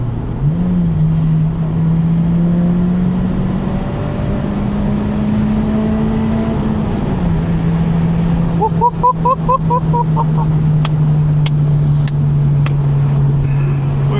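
An old Honda car engine revs and pulls hard nearby, its pitch climbing then settling into a steady drone, with a few sharp clicks near the end.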